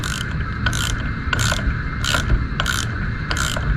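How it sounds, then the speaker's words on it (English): A ratcheting wrench turns a bolt to press a power steering pulley onto its shaft, giving repeated bursts of clicking in a steady rhythm, loud and close, with no talking. "I'm going to use the wrench to thread this"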